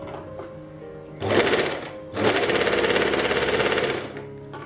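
A sewing machine runs a straight line of stitches on fabric in two close, rapid whirring bursts separated by a brief pause, with quiet handling sounds before and after.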